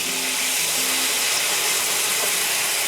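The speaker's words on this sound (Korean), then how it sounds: "고기를 먼저 구워줍니다. 겉면을 익혀서 고기 맛을 한층 올려주고" A continuous loud hiss and sizzle of LA galbi beef short ribs searing in a hot pan, steady and close without pauses.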